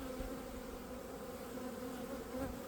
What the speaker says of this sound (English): So many bees with pollen over here.